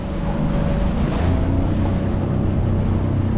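A small fishing boat runs fast back across the water at sunrise, with a steady loud roar of engine, hull and wind buffeting that continues unbroken.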